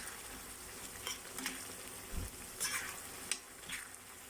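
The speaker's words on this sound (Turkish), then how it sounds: "Salçamızı da ezelim, kavuralım." Tomato paste sizzles and sautés in a hot pan with plenty of onion, with soft scraping stirs and occasional louder spits over a constant frying hiss.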